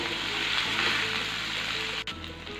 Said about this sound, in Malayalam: അരച്ച് വെച്ചിരുന്നത് അതേ എണ്ണയിലേക്ക് ഇട്ട് കൊടുക്കുകയാണ് അതൊന്ന് മിക്സ് ചെയ്തെടുക്കണം